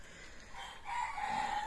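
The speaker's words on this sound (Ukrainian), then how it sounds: "От ті божий пітушок старається." A rooster crows once at a distance, its drawn-out call rising over a quiet outdoor background.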